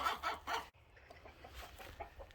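Chickens kept in a city backyard cluck softly in quick bursts. A louder run of clucks is followed by fainter scattered clucking in the background.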